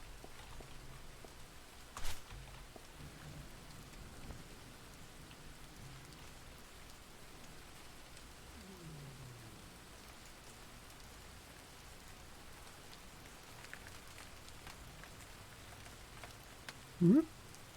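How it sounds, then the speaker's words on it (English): Steady rain falls on the water of a Czech pond, a soft continuous patter throughout with a couple of brief louder knocks, recorded fairly quietly with no talking. "Look at this rain."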